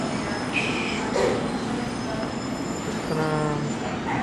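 An underground people mover train at Atlanta's Hartsfield-Jackson airport rumbles steadily along the track, with brief squealing wheel tones and faint chime-like tones near the end.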